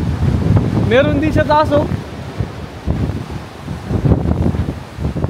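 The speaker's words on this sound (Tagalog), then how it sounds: "Wow, ang lakas. Lakas ng hangin." Strong wind gusts roar across the microphone at a seaside fishing spot near Melbourne, with rushing surf beneath, while someone speaks briefly in the middle.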